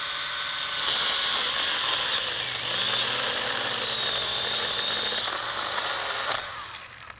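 STIHL GTA 26 battery-powered mini saw cutting wood, a loud high-pitched whine that sags and wavers as the motor bogs under load, then cuts off abruptly near the end.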